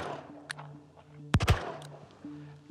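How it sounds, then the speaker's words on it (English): A Taurus 605 revolver chambered in .357, loaded with .38 Special rounds, fires once mid-clip: a muffled, punchy report with a quick echo over steady low background hum, no voices. "So first I'm gonna shoot it with 38 specials."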